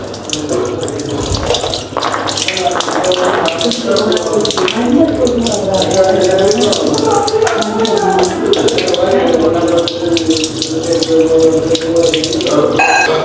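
Tap water runs steadily into a sink while seer fish (vanjaram) is washed under it, a continuous close splashing stream with a few handling knocks throughout.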